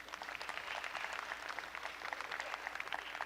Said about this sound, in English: give these adult people out here a big round of applause